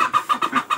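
A backyard chicken clucks in a quick series of four or five close, loud notes, evenly spaced with nothing else around it.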